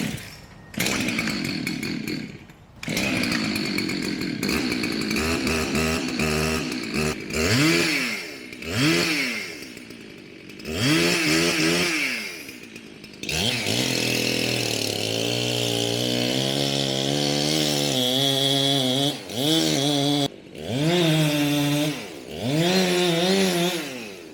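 A Husqvarna 390 XP chainsaw fells a tree, close and loud, its engine revving up and down in repeated surges while cutting and idling between pulls, with no speech over it.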